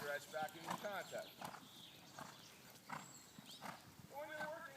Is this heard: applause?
no